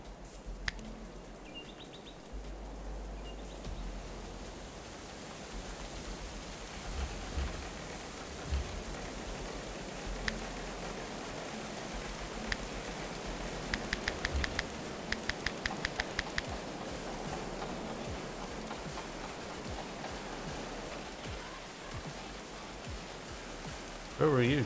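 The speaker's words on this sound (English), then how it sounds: "It is raining now" Steady rain falls in the medieval colony-building video game Going Medieval, a soft, constant patter throughout with faint scattered ticks and no talk.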